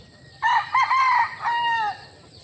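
A Lemon Sweater gamecock rooster crows once, close and clear, in a rising and then drawn-out call lasting about a second and a half, set against a quiet outdoor background.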